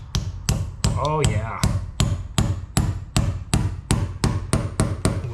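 A small setting tool is hammered to drive threaded inserts into holes on a Ford Aerostar. The strikes are sharp, close and repeated in a steady rhythm, and someone speaks briefly partway through.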